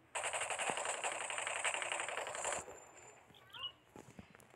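Machine gun firing in a video game, a dense rapid burst of shots for about two and a half seconds, then a few faint scattered sounds.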